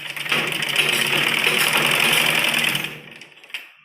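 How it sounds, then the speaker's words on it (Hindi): A sewing machine runs basting stitches on silky fabric, whirring loudly and steadily for about three seconds up close before slowing to a stop, followed by a faint click. "मशीन के साथ भी आप कच्ची सिलाई कर सकते हैं"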